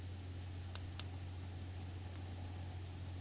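A computer mouse gives two quick, crisp clicks close together, faint against a steady low hum, with nothing else happening.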